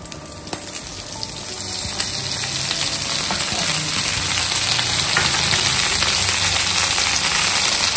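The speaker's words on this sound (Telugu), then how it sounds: "ఇప్పుడు దీంట్లో నేను నూనె వేసుకుంటున్నాను." Oil poured into a hot kadai for frying mutton crackles at first, then swells into a loud, dense, continuous sizzle that stays close and steady, with no voices.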